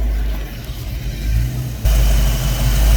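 A 1993 Mustang Cobra 5.0 V8 fires up for the first time after sitting for 26 years: cranking and rough running step up into a sudden louder, steady engine rumble near the end, close by with no talking.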